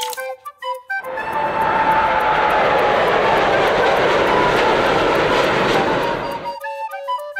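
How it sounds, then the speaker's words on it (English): A toy airplane's steady, loud engine roar swells in after a short electronic jingle, holds for several seconds, then stops as chiming tones return. "Airplane."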